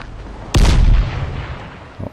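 A grenade goes off in the zombie game Dying Light with one sudden, loud, deep blast. A heavy rumbling tail follows, then a short thump of gunfire near the end.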